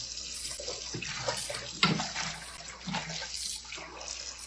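Water runs from a tap while meat is rinsed, splashing and gurgling unevenly for a few seconds with a few brief clatters.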